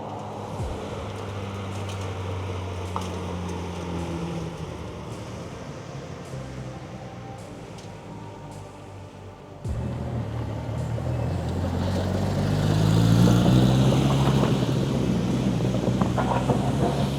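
A Porsche 997.2 GT3 with a 6-speed gearbox approaches from a distance, its engine rising gradually from a faint hum to a louder, nearer drone over steady background noise.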